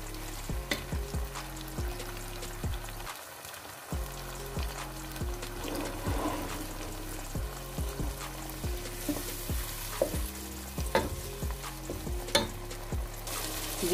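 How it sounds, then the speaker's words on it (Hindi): Aloo baingan masala of potato and eggplant frying in a pan, a steady sizzle broken by repeated rhythmic stirring and scraping knocks throughout, close and fairly loud with no talking. "पहले इसको थोड़ा सा भून लें।"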